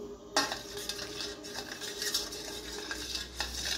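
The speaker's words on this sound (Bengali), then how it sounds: "একটু জলটা গুলিয়ে নিলাম।" A spoon stirs black salt into water for fuchka, clinking against the bowl after a sharp first knock, then steady swirling and tapping strokes, close and clear without speech.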